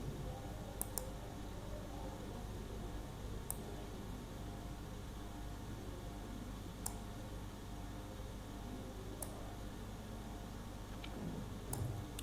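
Computer mouse clicking, a handful of sharp isolated clicks spaced several seconds apart over a quiet hiss, no talking.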